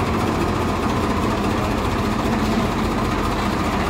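A tractor engine runs steadily up close, a loud continuous low rumble and mechanical drone that holds constant throughout with no break and no voices.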